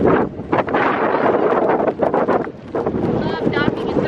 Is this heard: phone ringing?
no